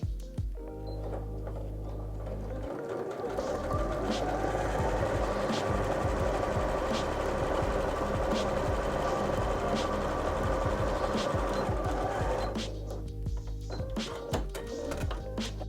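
A Juki sewing machine runs steadily for about twelve seconds, a dense, even mechanical whir with a fast needle rhythm, starting and stopping cleanly at either end.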